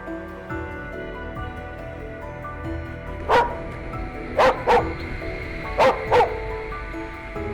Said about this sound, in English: Hunting dogs are considered close friends of hunters as they play the role of tracking wild boars.